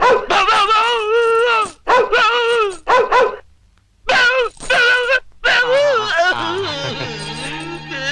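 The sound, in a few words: man imitating a dog barking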